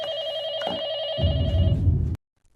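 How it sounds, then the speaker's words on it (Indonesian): A telephone rings in a horror film, a steady repeating electronic bell tone heard up close, joined by a low rumbling noise before the sound cuts off abruptly into silence. "Tiba-tiba, telepon berdering."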